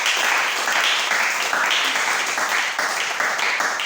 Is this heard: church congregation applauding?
yes